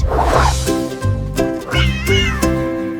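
A cat meows several times in a row, close and clear, with drawn-out, slightly wailing calls.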